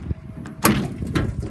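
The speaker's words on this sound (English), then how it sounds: "But all the doors open and close." A door on a beat-up, rusty 2005 Ford F-350 XL Crew Cab utility truck clunks shut with one loud slam near the middle, after quieter latch and handling noises.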